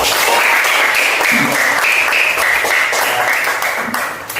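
Children applaud together in a classroom, a loud, continuous burst of clapping that holds steady and starts to taper at the end, with a few voices mixed in.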